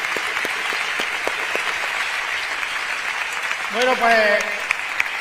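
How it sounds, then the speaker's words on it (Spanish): An audience applauds at a carnival proclamation event in Córdoba: dense, sustained clapping throughout, with a voice speaking over it. "Un aplauso, claro que sí."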